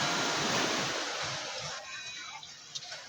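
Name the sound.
sea waves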